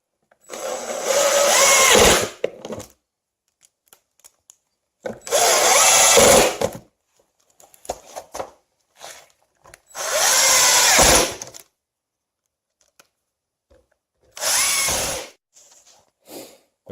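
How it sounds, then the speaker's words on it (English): A power drill drives screws into plywood and a 4x4 while a weight bench is built, four loud close bursts of whirring spaced by silences, with small clicks between them. "going to screw them in with 3/4 inch screws so you don't go through the surface of the plywood"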